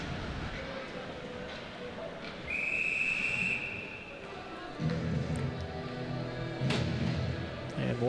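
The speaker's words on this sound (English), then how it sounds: "And we'll have a whistle called at the blue line." A referee's whistle at an ice hockey game gives one sharp, shrill blast amid crowd and rink noise, while a commentator talks over the action before and after it.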